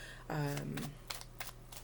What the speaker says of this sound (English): let's go ahead and get these shuffled.